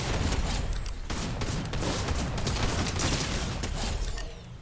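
Heavy, continuous weapon fire from a drum shotgun in Fortnite, a dense barrage of blasts and clattering impacts that runs nearly the whole time before easing off at the end, loud and close.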